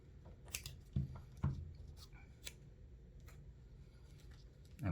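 Scissors snip off the excess fabric covering a mic cable on an athlete's jersey fitted with a Q5X PlayerMic, giving several quiet, close cuts spread unevenly across a soft background with no talking.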